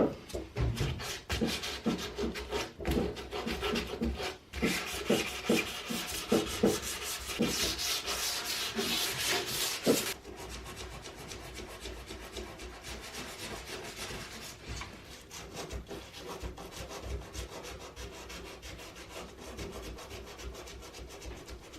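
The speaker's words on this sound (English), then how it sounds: "And final sanding by hand." Steady scratchy rubbing of sandpaper over a wooden centerboard keel by hand, close and continuous, with rhythmic back-and-forth strokes that grow smoother and quieter partway through.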